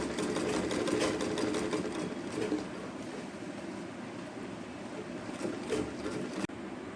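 A sewing machine runs in quick bursts while stitching around the neckline of a traditional Pattu Pavadai Sattai top, its rapid needle chatter close and even, with one brief stop near the end.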